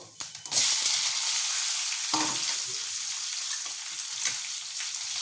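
Onion dropped into hot oil with bay leaves and whole cumin sizzles loudly after a few initial clatters, then settles into a steady close frying hiss with occasional stirring scrapes.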